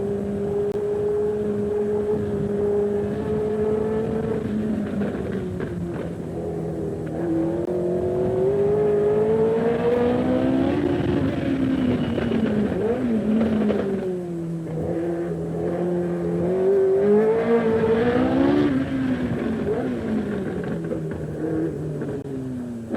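Onboard a six-wheeled-era 1977 Formula One car at the Monaco Grand Prix, a loud, continuous engine howl rising and falling in pitch as it accelerates and lifts through corners, with no talk.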